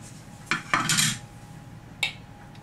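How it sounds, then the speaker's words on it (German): A lid is set onto a Thermomix TM5 bowl holding bread dough ingredients, with a few close hard clatters of plastic and metal, a cluster of knocks and then one more sharp click. "Jetzt setzen wir den Deckel drauf."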